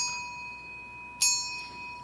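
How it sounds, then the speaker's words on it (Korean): A church bell is struck once midway, its bright metallic clang ringing out over an already sustained humming tone from earlier strikes, then slowly decaying. "교회 종탑을 세워서 종을 칩니다."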